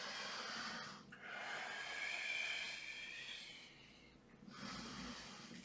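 Slow, audible breaths in and out during a floor Pilates exercise with no equipment, a long airy exhale flanked by shorter breaths, close and fairly quiet, with no talking.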